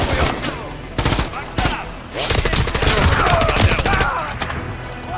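Rapid, loud gunfire from Call of Duty Modern Warfare 3 keeps going throughout: dense overlapping shots and automatic bursts with brief lulls, close and heavy, with faint voices now and then in the background.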